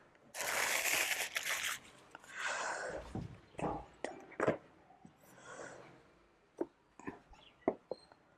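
Packaging for a black Redmi Watch 4 is unboxed, giving close crinkling and crushing rustles first in a dense burst, then in scattered, softer handling noises and taps.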